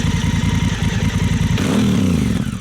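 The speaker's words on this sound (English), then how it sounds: "Man, that sounds shit hot." A Honda Africa Twin motorcycle idles close by, then gets a quick blip of the throttle that sends the engine note rising and falling in a short rev.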